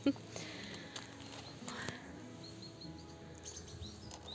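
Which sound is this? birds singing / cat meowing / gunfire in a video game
birds singing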